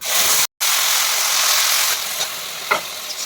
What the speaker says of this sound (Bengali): পেঁয়াজ আর রসুনের যে পেস্টটা করে রেখেছি, এই পেস্টটা আমি তেলের মধ্যে দিয়ে দেবো